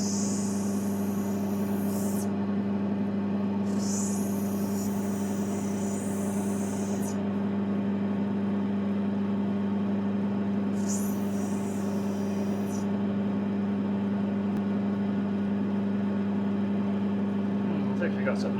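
A lapidary grinding wheel cuts a black opal with a steady droning hum and a strong low tone, plus three bursts of high gritty hiss where the stone is pressed to the wheel. People talk over it.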